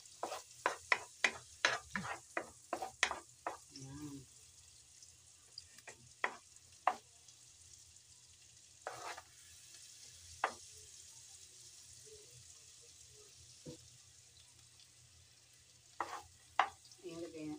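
Garlic fries in a hot pan, a soft sizzle under repeated close scraping and stirring strokes, busy at first and then sparser, with occasional utensil clicks.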